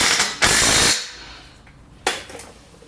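An impact wrench with a 24 mm socket snugs a bolt on a pivot rack assembly. A loud, close half-second burst of rattling hammering is followed after a pause by a second short, sharp burst.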